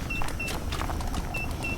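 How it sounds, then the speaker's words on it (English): Short electronic beeps from a machine in the mining game MineMogul repeat at uneven intervals over a steady bed of game noise and mechanical hum. "The beeping will stop soon"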